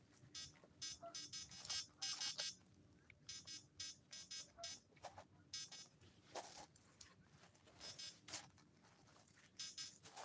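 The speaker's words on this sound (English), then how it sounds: "I hope that bite alarm is just because I touched the rod and not that it's going to keep beeping." A fishing rod bite alarm on a riverbank beeps in quick repeated bursts of high electronic tones, some runs longer than others, fairly faint against quiet outdoor background.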